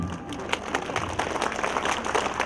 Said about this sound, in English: This is called rocket clapping.